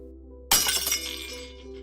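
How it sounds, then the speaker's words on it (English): A glass vial smashes on a street surface, one sharp shattering crash followed by a scatter of tinkling fragments settling over about a second, close and alone against a low steady hum. "a vial and a syringe came tumbling out and onto the ground, shattering in the street"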